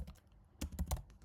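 A few quick clusters of keystrokes on a computer keyboard, close and fairly soft, while a code comment is typed in a C++ coding session.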